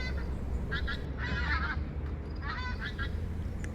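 Several bursts of honking from a big skein of white-fronted geese passing overhead, calls coming in clusters over a steady low rumble of wind or engine noise.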